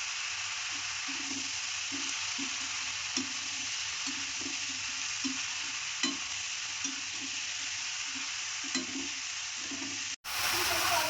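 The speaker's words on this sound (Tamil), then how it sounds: "வெங்காயம் தக்காளி ரெண்டுத்தையும் போட்டு நல்லா வேகிற வரைக்கும் நல்லா வதக்கிப்போம்" Onion, tomato, ginger and garlic sauté in a pan, a steady close sizzle with soft rhythmic stirring scrapes, before a sudden cut to a different, louder sound at the very end.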